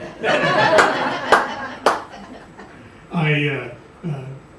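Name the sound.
audience clapping and laughing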